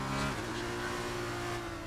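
Race car engine from the F1 2019 video game holding a steady high whine, with a brief shift in pitch early on, continuous and loud with no voices over it.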